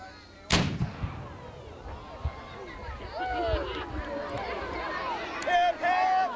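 Cannon firing at a Battle of New Orleans anniversary weapons demonstration in Chalmette, Louisiana, one loud sharp boom followed by crowd murmur and people talking nearby.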